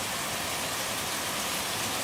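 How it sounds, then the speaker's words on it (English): Rain during a big storm pours as a steady broadband hiss, close and continuous, with no distinct drops or voices standing out. "I'm in the house now and it's still actually raining."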